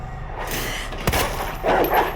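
A single sharp gunshot rings out in the survival-horror video game Resident Evil. The brief crack sits among game ambience, with faint dog-like growls around it.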